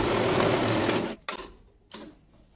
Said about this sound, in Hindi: यहाँ पे मैं आपको मशीन में सिलाई लगा के दिखाती हूँ।